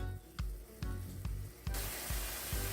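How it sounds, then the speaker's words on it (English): Food sautes in a hot pan with a steady sizzle and spitting hiss, broken by regular soft knocks of stirring about every half second; the frying grows louder and brighter midway through, close and alone with no talk. "let this kind of saute for about 2 minutes"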